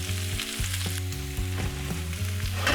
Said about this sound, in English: So I'm going to seal so I've already done the first side, turned it onto the second.